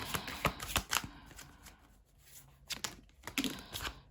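Archetype oracle cards are shuffled close by in a run of crisp riffling flicks and taps with short pauses, with no talking.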